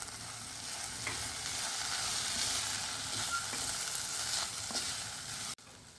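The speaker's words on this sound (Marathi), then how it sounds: "परतून घेऊ जरा। आता ही मुगाची डाळ घालू आपण याच्यामध्ये।" Moong dal is sautéed in a hot pan for a dal-spinach dish. A steady loud sizzle runs throughout with occasional stirring scrapes, no voices, then it cuts off abruptly near the end.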